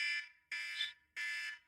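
Countdown alarm marking the end of a five-minute timed round: three identical shrill electronic beeps in an even on-off rhythm, clear and alone with no talk.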